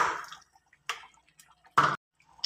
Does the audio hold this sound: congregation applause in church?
no